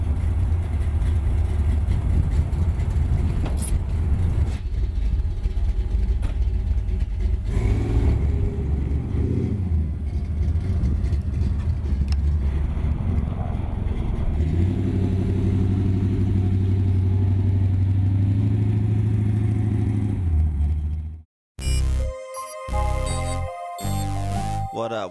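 A car engine turns over and drives off, giving a sustained rumbling drone that rises and shifts as it pulls away, then cuts abruptly to music near the end.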